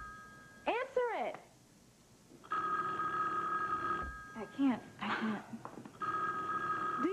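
A telephone bell rings indoors in a domestic drama scene, repeated trilling bursts that pause briefly, with people talking between and over the rings.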